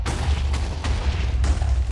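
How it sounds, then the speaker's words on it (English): A Minecraft explosion booms as a deep, sustained rumble with a few sharper bursts layered on top, loud and close, with no talk over it. "That's a big explosion."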